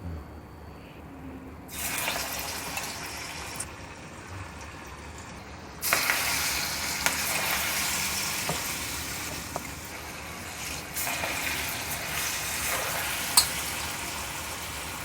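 Bottle gourd fritters sizzle steadily in hot oil, the frying growing louder and brighter as more batter drops in, with occasional crackles and a faint background hiss throughout.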